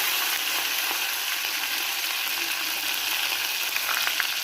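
Mustard seeds, cumin, garlic and coriander sizzle steadily in hot oil, a dense, even crackle with small pops for a few seconds and no voices.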